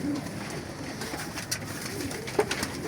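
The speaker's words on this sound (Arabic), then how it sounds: "بصوا الحمام" Pigeons cooing in a rooftop loft in Imbaba, soft repeated coos close by over a faint background hum with a few brief bird sounds, and no talking.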